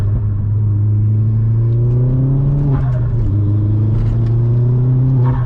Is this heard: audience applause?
no